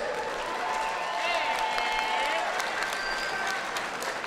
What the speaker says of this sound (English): How about a round of applause for both these fighters?